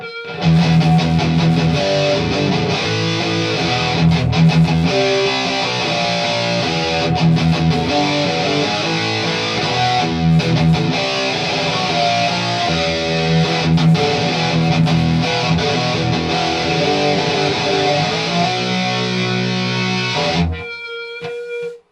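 Heavily distorted electric guitar through a Boss Metal Zone pedal into a Quilter 101 Mini Head amp, set to low gain with the master around 30, plays loud, steady chugging riffs for about twenty seconds before cutting off abruptly.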